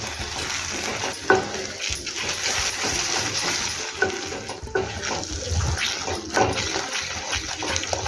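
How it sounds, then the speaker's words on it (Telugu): Thick, creamy paneer curry enriched with cream being stirred in a pan, a steady wet sizzle with soft scraping swells of a spoon, close and continuous with no talking. "ఇప్పుడు అంతా బాగా మిక్స్ చేసుకుందాం"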